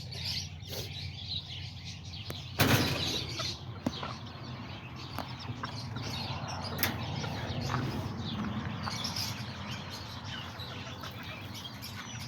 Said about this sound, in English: All the little roosters all right here. They're all getting ready to go to sleep.